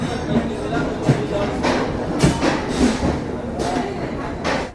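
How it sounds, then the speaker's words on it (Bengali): A long-distance train pulls out of Ambala Cantt station bound for Amritsar, its carriages rumbling with rhythmic wheel clatter and knocks close by, while a person talks over the noise. "আর ট্রেন কিন্তু ছেড়ে দিল অমৃতসরের উদ্দেশ্যে"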